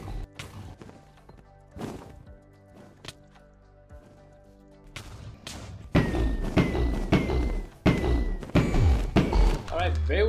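Pillars being destroyed in the End in Minecraft on peaceful mode: sharp thuds and crashing blasts, sparse at first, then coming in a dense rapid run, with a person talking between and over them.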